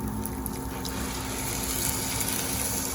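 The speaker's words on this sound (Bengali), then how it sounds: "আর এই যে আমি প্রেসার কুকারে পরিমাণ মতো জল দিয়ে দিলাম" Water poured into a pressure cooker for a vegetable khichuri, making a close, steady gushing fill with a faint underlying hum that lasts the whole moment.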